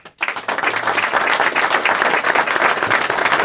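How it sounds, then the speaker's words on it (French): An audience bursts into sustained applause, dense clapping from a crowd rising quickly and holding steady and loud throughout. "Vous allez l'applaudir."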